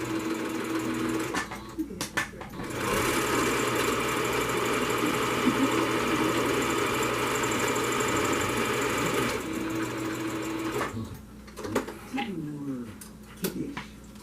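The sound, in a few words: sewing machine stitching pleats of a fabric medical mask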